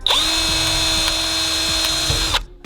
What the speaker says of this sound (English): we've still got a 2mm bit. I'm still going to be drilling.